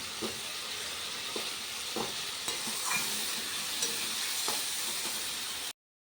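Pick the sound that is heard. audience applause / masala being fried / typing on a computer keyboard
masala being fried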